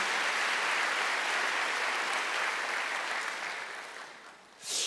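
A church congregation applauds during a Sunday worship sermon, a dense, sustained roar of many clapping hands filling the room, then tapering off near the end with a brief final swell.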